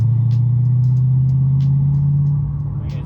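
LS V8-swapped Porsche 911 in sixth gear at about 45 mph, a steady deep engine drone with low rumble that holds level through most of the run and eases slightly near the end, heard from inside the car.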